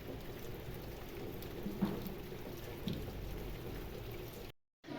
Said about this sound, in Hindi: मैं बारिश में उतर नहीं पाऊंगा क्योंकि बारिश लगी हुई है।